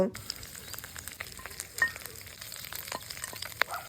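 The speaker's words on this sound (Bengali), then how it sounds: "মাছের মাথা ভাজা হয়ে গেলে তুলে নেব।" Fish head frying in oil, a continuous crackling sizzle dotted with sharp spitting pops, moderately close and without speech.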